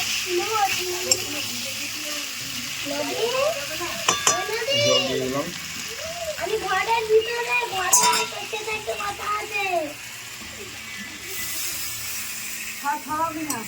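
Spicy chicken sautés in a pan over a wood-fired stove, a steady sizzle and stirring scrapes running beneath people talking nearby throughout.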